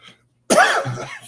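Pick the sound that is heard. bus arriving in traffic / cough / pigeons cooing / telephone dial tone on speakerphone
cough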